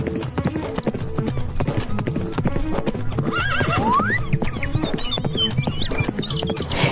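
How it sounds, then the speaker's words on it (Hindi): Cartoon sound effects for a mare carrying a traveller through a forest: brisk, evenly paced hoof clip-clops ring out continuously, with a neigh and squeaky whistling effects layered in the middle. "चतुरी ने एक घोड़ी खरीदी और कुछ रुपए उसकी पूंछ में बांधकर चल दिया।"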